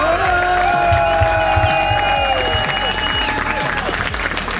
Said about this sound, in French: je veux un tonnerre d'applaudissements pour tous nos bénévoles